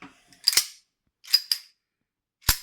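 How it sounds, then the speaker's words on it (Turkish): A Sarsılmaz P8L pistol is dry fired indoors, its trigger and slide giving several sharp, close metallic clicks and snaps in small clusters separated by silence. "Güvenli bir bölgeye tetik düşürüyoruz."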